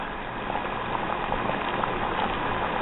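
Water boils in a pot for blanching dill, a steady close bubbling and rolling hiss with no talk over it.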